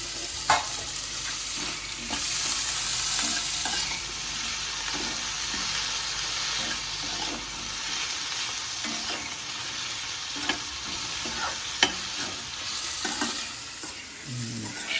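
Tomatoes frying and being stirred in a pan, with a steady close sizzle throughout and repeated scraping strokes of a utensil against the pan.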